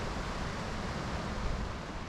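Water pours down a natural rock water slide in the Holy Cross Wilderness, producing a continuous, dense rushing roar that stays even and fairly loud throughout, with no voices.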